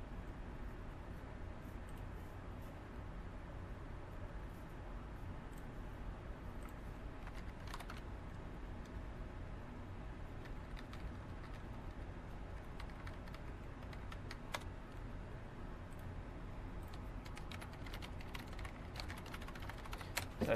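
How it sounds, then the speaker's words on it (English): Someone types on a computer keyboard in a TV news studio, a faint, steady patter of keystrokes running continuously for about twenty seconds with scattered sharper clicks. "Typing out a quick message there."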